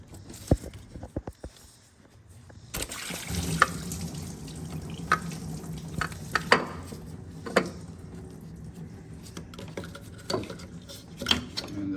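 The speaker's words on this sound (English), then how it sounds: "A lot of coolant will come pouring out, so make sure you have something to catch the coolant under the car." Coolant pouring and splashing out beneath a 2018 Honda Accord 1.5L after its water pump is removed, a steady wet flow with intermittent drips and clanks into a catch container below the car.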